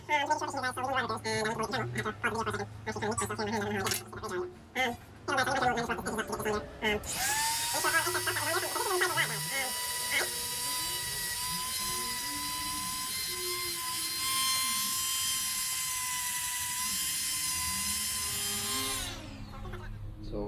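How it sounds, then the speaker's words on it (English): A Dremel rotary tool roughs up a fishing rod guide, its high, steady whine running for about twelve seconds after a stretch of nearby talking and handling noises. "I actually got a Dremel for this stuff."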